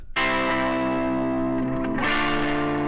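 Electric guitar strummed in basic rock chords through a Princeton reverb amp, two sustained distorted chord strikes ringing loudly with a wash of reverb and effects, heard alone.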